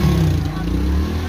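A motorcycle passing on a street in Mozambique, its low engine drone loud and close, mixed with a murmur of voices in the background.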